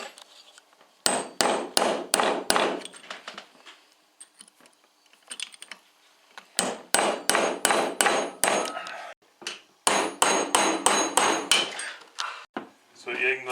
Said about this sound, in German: Ich gehe jetzt mit dem kleinen Meißel hier hinten dran und versuche das nach vorne